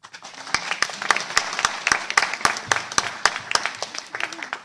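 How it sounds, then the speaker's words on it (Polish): Applause at the finale of a children's poetry and song contest in Strzelno, a modest audience clapping in a fairly rhythmic, sparse pattern with distinct individual claps and a faint tone underneath. "Wielkie brawa."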